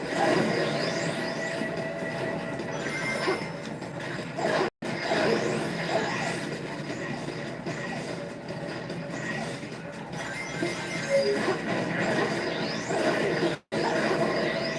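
Steady rumbling rush of a train running along rails in the Sonic 06 video game, continuous and fairly loud with faint squealing tones, broken by two brief dropouts.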